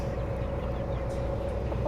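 Chickens cluck near a chicken coop on a farm, soft steady clucking in the background over a constant low hum.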